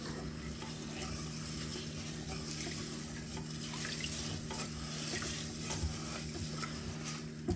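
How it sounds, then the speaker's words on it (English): Quiet scraping and swishing of a utensil stirring food in a pot, with a soft sizzle and a low steady hum underneath. "Just going to mix that up."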